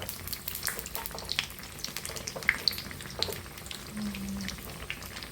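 Breadfruit fritters bubble and sizzle softly in hot oil, a steady low crackle with scattered small pops and faint clinks throughout.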